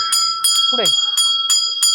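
A bell rings in a village in a quick series of about six bright, metallic strikes over two seconds, with a short voice sound cutting in between them.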